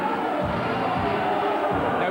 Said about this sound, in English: There's a good crowd in here, lots of support for both these fighters